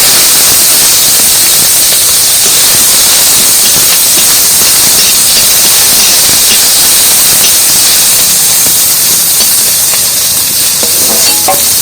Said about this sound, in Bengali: আর এই গরম তেলের মধ্যে কটা রসুন নিচ্ছি।